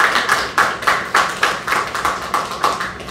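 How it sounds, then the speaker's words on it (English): Audience clapping at a Rhode Island bill-signing ceremony for LGBT+ anti-discrimination housing legislation, heard as a steady run of sharp, evenly spaced claps at moderate volume with no voices. "we owe a round of applause for that"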